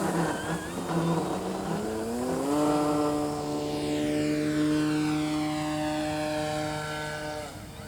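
A Hangar 9 J-3 Cub model airplane with a 10cc engine makes a full-speed pass, its buzzing engine rising in pitch and loudness as it approaches, then dropping in a clear Doppler sweep as it flies by and away.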